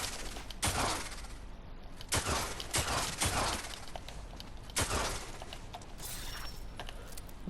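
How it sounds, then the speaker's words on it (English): Kablooey darts firing in DmC: Devil May Cry, a dense run of sharp cracking, shattering bursts with mechanical clicks, loud and close, several heavy blasts spread through the stretch. "Let's first start by firing all darts by the Kablooey"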